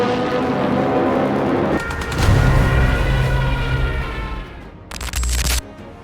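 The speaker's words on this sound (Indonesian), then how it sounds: "pesawat-pesawat muncul dari langit dan menyerang pasukan Inggris dengan tembakan" Aircraft gunfire strafing British troops at Dunkirk in the Second World War: a sustained, rumbling barrage of shots and heavy low booms that swells midway, then ends in a loud, close burst.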